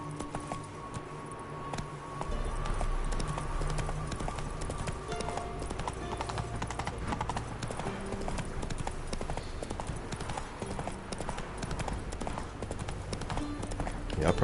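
Roach the horse gallops in The Witcher 3 video game, with steady rhythmic hoofbeats running throughout over in-game ambience and a faint music bed.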